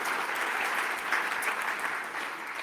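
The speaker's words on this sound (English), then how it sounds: "Could we have a round of applause for them?" Steady, dense applause from an audience, held at an even level throughout with no voices over it.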